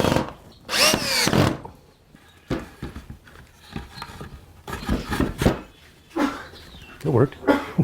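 A power drill drives 1-inch screws into wood while building a trestle table, with several close whirring bursts that rise and stop between pauses and a person talking in between.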